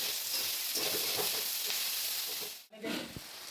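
Food sizzles and hisses steadily in a hot pan, with a brief stir that dips the sound for a moment before the frying continues.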